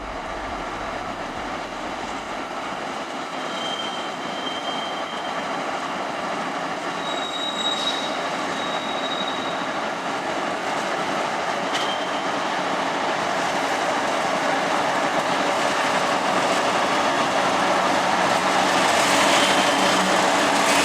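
A CSX freight train with a Louisville & Nashville heritage locomotive rolls past steadily with rumbling wheels and occasional high squeals, the noise building gradually louder toward the end.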